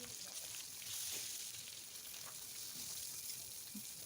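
Fish fries in hot oil in a pan, giving a faint, steady crackling sizzle throughout with a few small pops as the pieces are turned.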